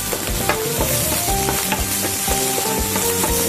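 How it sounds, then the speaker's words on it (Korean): Garlic fries in a pan with a loud, close sizzle and steady scraping and clattering of a utensil stirring against the metal, with no talking. "지금 볶아서 준비를 해 놓으셨으면 마늘을 볶겠습니다"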